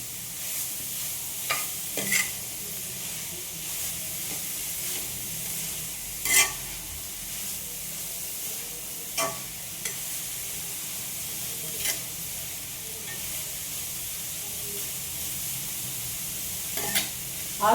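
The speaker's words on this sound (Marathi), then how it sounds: "गाजर छान परतवून घ्यायचे" Grated carrots sautéing in ghee for carrot halwa, a steady crackling sizzle with periodic scraping stirs and occasional clinks of a spoon against the pan.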